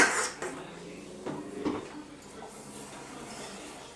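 A utensil clinks and scrapes against a pan while stirring a whiskey and coke rib sauce, a few distinct knocks early, then a quiet, low-level bubbling.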